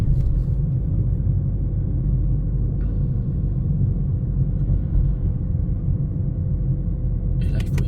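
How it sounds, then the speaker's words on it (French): A car engine idling in low gear as the car creeps forward without the pedals pressed, a steady close low rumble that holds at an even level throughout. "On lâche les pédales, la voiture elle avance doucement sans caler."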